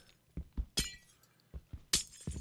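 Glass blocks breaking in Minecraft survival, several sharp crackling shatters in quick succession, each a bright brittle burst with short thumps between, close and clear with no talking.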